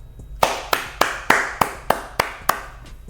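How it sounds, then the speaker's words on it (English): Eight sharp hand claps spaced roughly evenly, close and alone in a quiet room, each crisp snap followed by a brief decay. "Clap it up, man."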